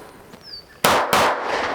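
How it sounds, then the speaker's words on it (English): Two loud, close pistol shots from a SAR USA B6C about a quarter second apart, each a sharp crack with a bright ringing decay. "I'm going to do 2 shots of mag change and then 2 more shots"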